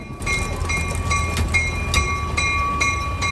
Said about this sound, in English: The train is over there.